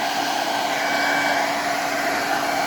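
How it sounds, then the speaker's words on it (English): A hair dryer drawing about 1400 watts blows steadily with a loud, constant whooshing hum and motor whine, close by and uninterrupted. "Let's plug in a hairdryer."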